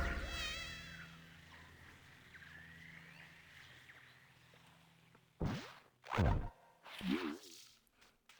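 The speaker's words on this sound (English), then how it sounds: "Apis mellifera" Honey bee buzzing in the video game Paradise Marsh, a steady insect drone with fluttering harmonics that opens loud and fades over several seconds, followed by a few louder game whooshes near the end.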